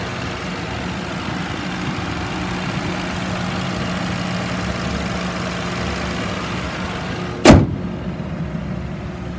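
A 2010 Ford Crown Victoria Police Interceptor engine idles steadily with a low, even hum, close by and alone, until a sharp thump of a car door near the end.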